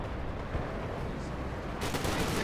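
Distant artillery fire pounding an area in the Company of Heroes 2 strategy game, heard as a dense, continuous rumble of battle with a sharper crackle of blasts toward the end.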